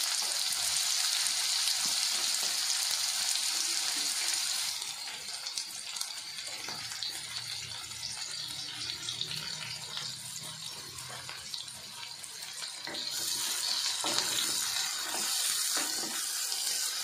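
Two medium onions, finely chopped, sizzling steadily in hot oil in a pan, a dense continuous hiss that eases briefly and then swells again, close by with no talking.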